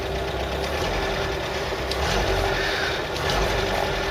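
A Ford Cortina 1300 engine in a MK3 Cortina Estate idles steadily nearby, a constant mid-pitched mechanical hum with a faint tonal whine running under it and no talk.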